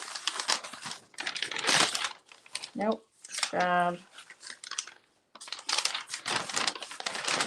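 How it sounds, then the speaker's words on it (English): Roll-off paper on a gel printing craft table crinkles and rustles while it is adjusted, in brief bursts of close crackling between stretches of a person talking. "And I'll just adjust my roll-off paper because that one's getting pretty full."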